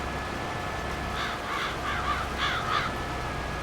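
Several crows caw in two short bursts over steady farm field background noise, harsh repeated calls at moderate distance, while a crop is being sown.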